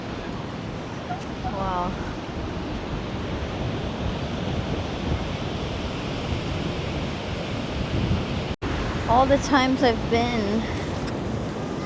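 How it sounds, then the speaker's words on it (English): Intense, wild ocean surf pounds a beach at a coastal lookout, a loud continuous roar with wind buffeting the microphone throughout; a person speaks briefly near the start and again toward the end. "The waves are intense."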